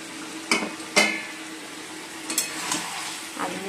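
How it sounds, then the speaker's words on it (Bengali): Chicken and potatoes stir-fried together in a pan, a steady low sizzle broken by a few sharp scrapes and clinks of a spatula against the pan, close up, with no voices. "চলো চিকেনটা কষিয়ে নিই আর আলুগুলোও দিয়ে দিই।"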